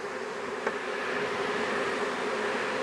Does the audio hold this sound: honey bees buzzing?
yes